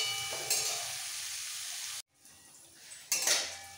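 Bitter gourd pieces frying in hot oil with turmeric, a loud steady sizzle that drops out abruptly, returns faintly, then surges again as the pan is stirred.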